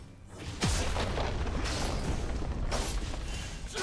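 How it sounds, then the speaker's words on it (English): A turret explodes in a League of Legends match, a loud booming blast with a crashing, rumbling tail that fills the clip, followed by a second burst of impact noise. "Red team's turret has been destroyed."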